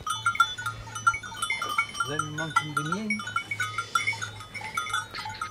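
Goats on a farm during morning milking, with a few clear bleats rising over steady barn noise, bells and a low hum, at close range.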